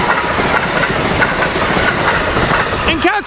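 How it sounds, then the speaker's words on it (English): An Amtrak train hauled by an ACS-64 electric locomotive passes close by with a loud, continuous rumble and rhythmic clickety-clack of wheels over rail joints, and a brief wheel squeal near the end. "Here we got an ACS-64 heading up the track."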